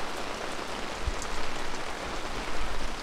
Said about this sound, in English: it's upstate New York and it started dumping rain